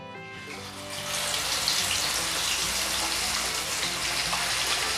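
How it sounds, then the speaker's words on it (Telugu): Marinated tandoori quail sizzles in hot oil in a frying pan, with a steady, dense hiss that swells after the first second and holds constant, close and fairly loud. "దీన్ని ఇప్పుడు ఫ్రై చేస్తాను."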